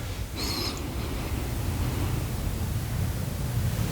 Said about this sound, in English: Spray for y'all, spray for me.